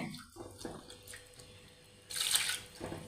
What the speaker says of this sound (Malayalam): വെള്ളം ഒഴിക്കാം ഇതിന് കുറച്ച് വെള്ളം